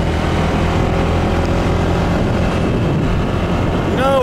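A small moped engine running steadily while pulling away on a day ride in Koh Samui, a loud continuous drone with a brief rising whine near the end, no talk over it.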